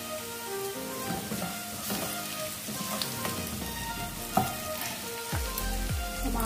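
Onions frying in a pan until reddish, with a dense, continuous close sizzle full of pops and crackles, plus a few clinks and scrapes of a utensil against the pan, and no talking.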